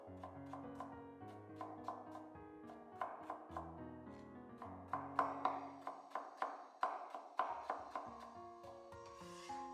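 Rapid, steady knife strokes cut a peeled carrot into thin strips on a wooden cutting board, a crisp rhythmic tapping that speeds up and grows louder midway, close and without talk.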